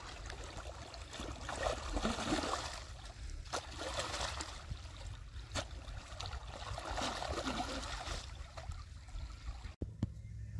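Steady irrigation water gurgles and trickles into a farm field across the whole stretch, a continuous outdoor flow with broadband rushing noise and no voices.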